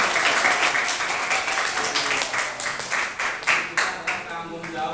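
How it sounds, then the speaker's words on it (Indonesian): Classroom applause for a student group: a dense patter of many hands clapping steadily for several seconds, fairly close and moderately loud, with some voices mixed in. "Tepuk tangan buat kelompok."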